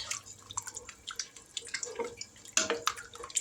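Liquid from jars of mixed vegetables, with corn, green beans and peas, pours into a pot of beefy vegetable soup, giving quiet, close splashes and trickling drips in small bursts, with a louder splash near the end.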